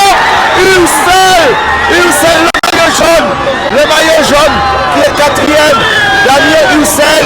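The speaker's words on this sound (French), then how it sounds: "la foule est en délire" A large roadside crowd roars and cheers wildly at the finish of a Tour de Guadeloupe cycling stage as the race winner crosses the line. The dense, loud, continuous cheering carries whoops and shouts throughout, with a brief dip midway.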